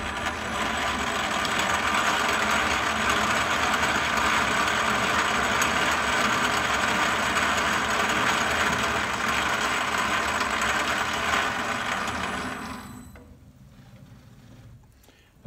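A Myford Super 7 lathe running steadily while cutting a 2 mm metric thread with a light pass, a dense continuous mechanical whir with a faint ticking that runs loud and even, then drops away as the machine stops.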